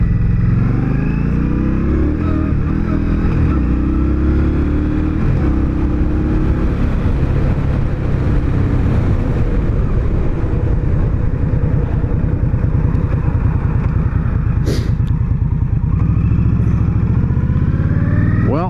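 A motorcycle cruises through Delray Beach, Florida at night, its engine droning loudly and continuously up close with shifting revs, a rumbling low exhaust note over road and wind noise, and a brief sharp clack near the end.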